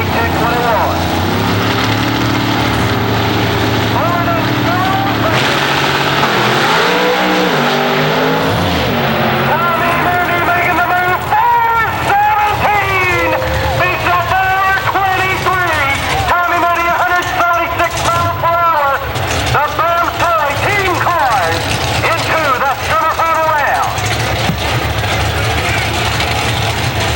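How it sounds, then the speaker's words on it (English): An IHRA Pro Mod drag racing car with an Austin 316 engine roars loudly and continuously at an early-2000s drag strip in Farmington, its revs rising and falling under a steady stream of announcer commentary. "I do believe Tommy's power plant underneath the hood of that machine, the name on the valve cover, Austin 316."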